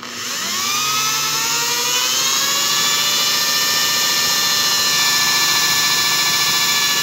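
A cordless drill spins a homemade generator built from a fan motor, rising from rest to a high, steady whine that holds loud and constant, with a rising pitched tone as it reaches speed.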